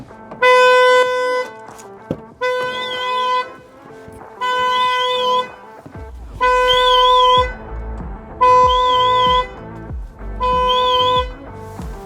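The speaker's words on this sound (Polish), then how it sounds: "Od razu włącza się głośny alarm." A loud car alarm on a Mercedes Sprinter camper blares in repeated bursts of about one second, cycling through a tone pattern, with brief gaps between.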